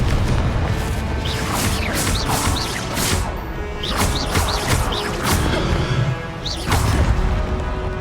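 Repeated fiery blasts of the Confringo spell in Hogwarts Legacy, dense bursts and crashes layered over loud continuous combat noise, coming in quick succession.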